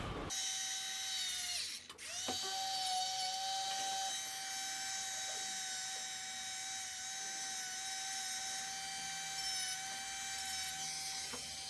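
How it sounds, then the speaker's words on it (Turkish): A small high-pitched rotary tool whines steadily, stripping paint from a metal eyeglass frame before welding in a repair shop, starting after a brief pause and running continuously at close range. "Kaynaktan önce bu kısımla birleşecek olan kısmın boyasını hafiften alacağız ki kaynak rahatlıkla tutsun, boya kalmasın."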